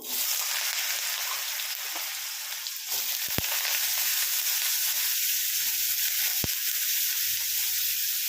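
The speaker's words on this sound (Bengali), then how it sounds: "তেল গরম হয়ে গেছে, আমি এতে ছোট ছোট করে কেটে রাখা আলু" Diced potatoes fry steadily in hot oil, a loud continuous sizzle that fills the clip with no talking, broken by two brief sharp clicks near the middle.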